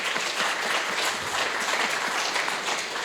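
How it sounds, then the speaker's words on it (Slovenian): An audience at a Slovenian public talk on food and seeds gives a hearty round of applause, dense, even clapping filling the moment with little talk. "en velik aplavz za Majo"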